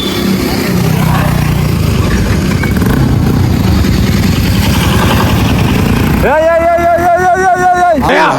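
A motorcycle engine rumbles loudly and close as the bike is ridden off, then cuts to a person speaking clearly near the end.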